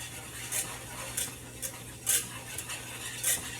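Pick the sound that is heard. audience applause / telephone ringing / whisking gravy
whisking gravy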